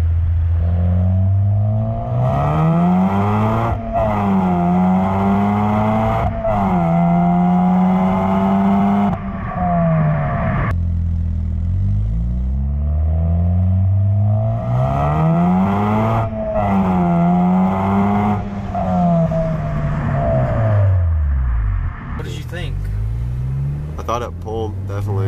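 The engine of a modded Honda Civic Si revs hard and loud in repeated pulls, climbing into VTEC with a rising, sharpening howl, then dropping back between runs, as if heard from inside the car.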